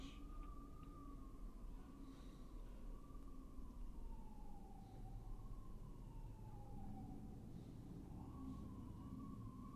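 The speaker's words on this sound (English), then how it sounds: "another siren that you hear" A distant siren wails in Manhattan, New York City, at sunset, rising and falling in slow sweeps over a low rumble of background traffic, faint but continuous.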